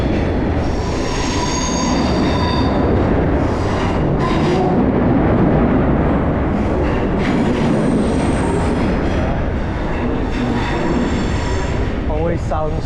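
A train rumbles past loudly and close under a bridge in Amsterdam, with high metallic wheel squeals rising over the continuous roar and clatter.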